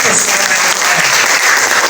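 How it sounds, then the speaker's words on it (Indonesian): Teachers in an ice-breaking session clap together, a dense, loud burst of applause that fills the whole moment at a steady level with no break. "Tepuk tangan dulu dong."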